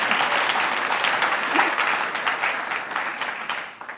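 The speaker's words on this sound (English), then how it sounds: "You can clap." Audience applause at an awards ceremony, a dense, steady wash of clapping from a crowd that thins out toward the end, with no voices over it.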